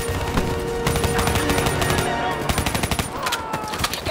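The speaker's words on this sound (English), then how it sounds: "Give me some cover fire." Automatic gunfire in the Call of Duty: Black Ops 3 campaign, with dense rapid bursts and scattered shots crackling continuously over a busy battle background.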